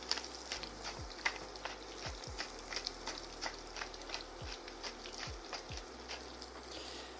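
Salted and peppered chicken thighs searing in a pan, a quiet sizzle dotted with sharp pops and crackles at irregular intervals, fairly faint and with no speech.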